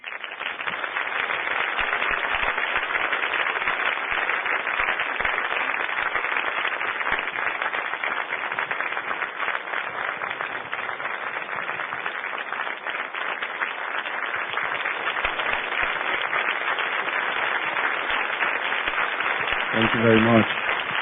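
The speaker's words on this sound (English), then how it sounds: "Give them a round of applause." Sustained applause from a film premiere audience welcoming the filmmakers, a dense steady wash of clapping that runs loud and even through the whole stretch, with a brief voice surfacing near the end.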